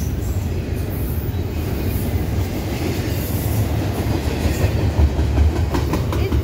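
A CSX intermodal freight train passes on the tracks, loud and near. Its heavy, steady rumble carries continuous clickety-clack of wheels over rail joints and faint metallic squeals.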